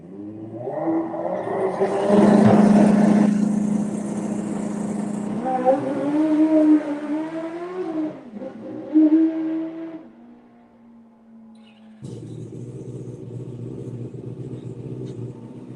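The Mean Racing top drag bike roars in a loud, rising howl as it launches and climbs through the gears, then drops away, followed by a duller steady engine rumble.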